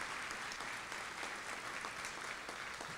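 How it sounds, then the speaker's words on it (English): Steady audience applause fills a sports banquet hall, a dense even patter of many hands clapping at moderate distance without pause. "I hope you'll give him a round of applause so he'll stay."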